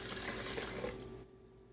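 Water is poured into a cooking pot for brown rice, a steady splashing stream lasting about a second before it stops abruptly, close and fairly quiet with no talking.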